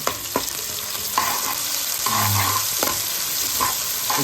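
Chicken with ginger garlic paste stirred in a hot pan for a country-chicken (natukodi) dish, steady sizzling and frying hiss with scraping stir strokes, close and continuous, no talking.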